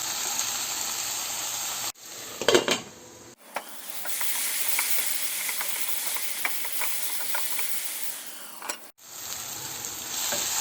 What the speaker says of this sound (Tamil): இப்போது இதில் தக்காளி ஆட் பண்ணிக்கலாம். தக்காளியும் நல்லா வதங்கணும்.